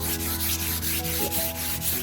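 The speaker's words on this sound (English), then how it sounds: "we're just going over this with a 320 sandpaper just to get any little bumps that might be in there." Fine 320-grit sandpaper rubbing across a wooden dresser surface, a quick series of soft rhythmic scratchy strokes, close and fairly quiet, with no talking.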